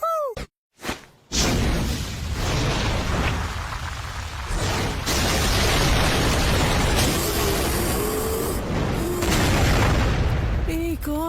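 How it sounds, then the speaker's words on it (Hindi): Repeated loud anime explosions, deep booming blasts with rushing rumble and whooshing debris that roll on almost continuously, a brief pause near the start before the roar builds again and sustains to the end. "एक और विस्फोट।"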